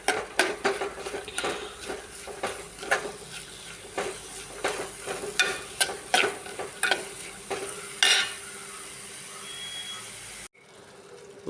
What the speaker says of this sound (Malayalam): ചെറു തീയിലിട്ട് നമുക്ക് വഴറ്റിയെടുക്കാം.